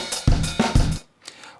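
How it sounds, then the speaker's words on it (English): A drum loop plays back from a computer: a few punchy kick-and-snare hits with bright cymbal wash in a quick repeating rhythm, then a softer tail. "I have a drum loop that I have on my computer that sounds like this."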